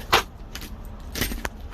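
Three keys for a 2016 Toyota Landcruiser Workmate jangle up close in a few quick metallic rattles over about two seconds, with faint vehicle background noise.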